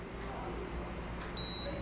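A Mercado Pago card machine gives a short electronic beep as it powers on after its upper right key is held, the tone brief and clear over a steady room hum.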